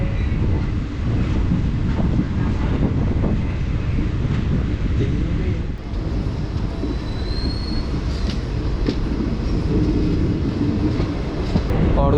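A Bilaspur–Korba passenger express train rolls along steadily, with a loud continuous rumble of wheels on rails and occasional faint wheel squeal, heard close up throughout.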